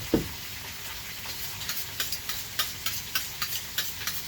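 Pork fat sizzles steadily in a pan outdoors in cool weather, a constant hiss with a run of small, evenly spaced pops and crackles, close and fairly quiet.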